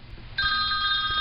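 A telephone ringing close by with a steady electronic tone that starts abruptly and holds without a break, over a low room hum.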